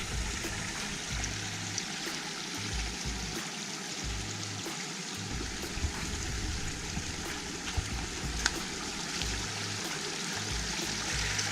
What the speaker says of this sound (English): So this is a cool little creek right by the shelter.